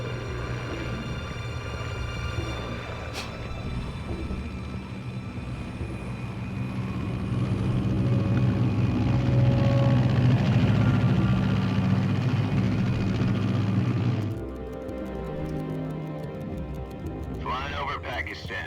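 Aircraft engine drone from a video game flight at 30,000 feet over Pakistan, a steady loud hum that swells in the middle and then drops to a lower rumble, with faint music-like tones near the end.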